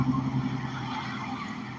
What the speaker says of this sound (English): Man, I can't believe all the cars.